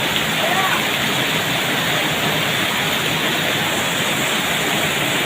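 Heavy rain pours down without pause, a dense, loud, even roar of water hitting surfaces close by that holds steady from start to end.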